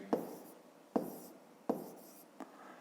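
Numbers are written by hand on paper, several short scratchy pen strokes in quick bursts, close and fairly quiet, with no voice.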